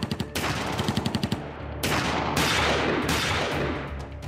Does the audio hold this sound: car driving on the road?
no